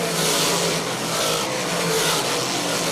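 Pepsi Big Block Modified race cars roar down the back straightaway, a loud, dense, continuous wall of engine noise with steady high-revving drone and no voices.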